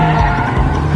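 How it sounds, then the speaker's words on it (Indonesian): Sports car speeding along a highway in a chase, tires skidding and squealing loudly, with a steady engine roar and harsh rubber screech across the whole second. "Lian kebut-kebutan di jalan raya mengejar pria bermasker karena dia pakai mobil sport"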